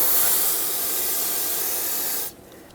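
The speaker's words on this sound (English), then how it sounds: "Use some brake parts cleaner if needed to rinse off the brake fluid." Aerosol brake parts cleaner sprays in a steady, loud, close hiss for about two seconds, rinsing brake fluid off a front brake caliper of a 2011-2016 Ford F-350, then cuts off abruptly.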